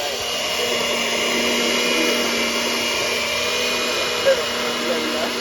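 An electric blender whirring steadily as it purees ginger with water for juice, a loud, even motor drone running for the whole clip with one brief clunk near the end.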